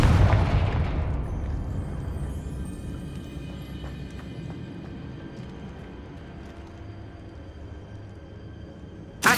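A Confringo blasting spell in the video game Hogwarts Legacy erupts in a loud explosion that booms at once and then rumbles away into a long fading tail, followed by a sudden sharp burst at the very end.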